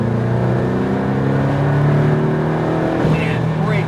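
A Porsche Cayman GTS engine on the SpeedVegas track holds a steady, loud drone that swells slightly as the throttle opens, with an instructor talking over it throughout.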